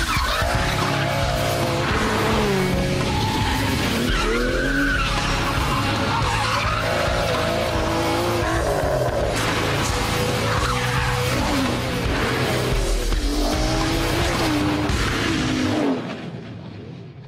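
An Aston Martin DBS sports car driven hard, its engine roaring continuously while the tyres squeal and skid through corners, loud and close for the whole stretch before fading at the end.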